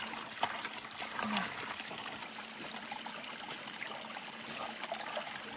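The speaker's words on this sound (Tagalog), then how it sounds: "dahil malakas ang tubig dito, bumabagsak po dyan, gumagawa siya ng ibang daanan ng tubig" Strong spring water gushing out on a mountainside and tumbling down, carving a new channel; a steady, close trickling and splashing rush that runs without a break.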